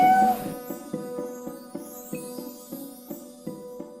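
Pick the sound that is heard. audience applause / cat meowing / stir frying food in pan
cat meowing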